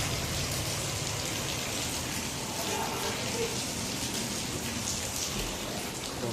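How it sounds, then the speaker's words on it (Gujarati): Steady rain falls in a town in Manavadar after a long dry wait, with a dense, constant hiss of drops hitting surfaces close by and no break across the clip. "લાંબા સમય રાહ જોયા પછી વરસાદ સ્ટાર્ટ થઈ ગયો છે."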